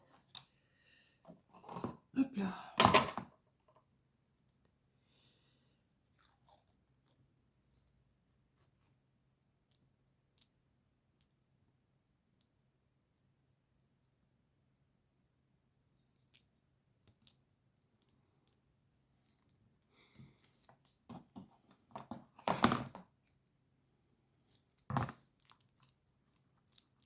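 Scissors snip and crunch through plastic packaging in a few short bursts separated by long quiet stretches; a voice briefly speaks.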